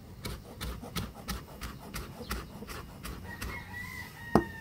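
Backyard chickens, an Escolin Muff and a Bulik, cluck in a steady series of short bursts, with a sharp louder call near the end and a faint drawn-out crow in the background.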